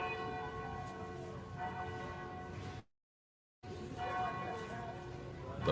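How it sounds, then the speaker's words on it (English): A large bell tolls with sustained ringing overtones, interrupted by a brief silent gap before the resonant tolling resumes. "The bell tolls."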